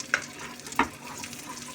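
Cashew nuts and raisins frying in a pan for payasam, two quick sizzling crackles standing out over a low, quiet simmer, with no talking.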